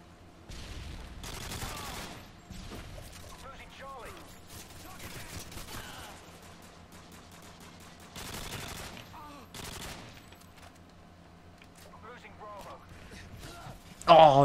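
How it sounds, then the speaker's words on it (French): Call of Duty gunfire from an enemy player, with bursts of automatic shots spaced a few seconds apart, moderately distant and mixed with game mechanism noises, ending in a sudden loud close sound. "Le gars de l'autre équipe commence à tirer dessus."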